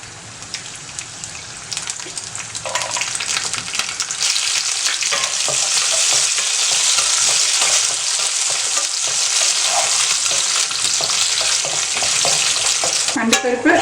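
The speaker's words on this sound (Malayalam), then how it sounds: "അതിലേക്ക് അണ്ടിപ്പരിപ്പ് ഇട്ട് കൊടുക്കാം." Cashew nuts fry in ghee for a festive lentil payasam, their sizzle starting softly and swelling into a loud, steady hiss near the microphone, broken by the scrape and clatter of a stirring spoon.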